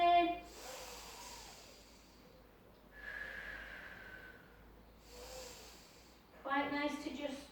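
A calm inhale during a Pilates flow, a soft airy breath lasting about two seconds between quiet stretches of guided speech.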